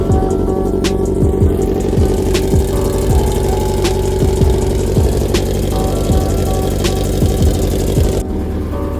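A Nissan 240SX engine idles loudly while warming up, a steady close rumble with regular rhythmic ticking pulses and a slight rise in revs.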